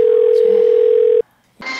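A telephone line gives a loud, steady tone as a call is placed, holding for over a second before stopping abruptly; after a short silence, a voice answers.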